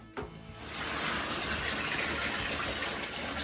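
Clean water, about seven litres, pours steadily into a bucket for plaster mixing during a bathroom renovation, a continuous close rushing gush that starts abruptly after a brief knock and holds even to the end.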